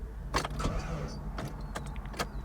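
Blown engine of a 2001 Saab 9-3 Turbo idling, a low rough rumble with irregular knocking and clattering bursts over a steady mechanical drone, fairly close and moderately quiet.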